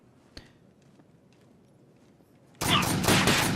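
Gunfire from the tactical shooter Takedown: Red Sabre, a single sharp shot early on, then a loud, dense burst of rapid automatic fire filling the last second.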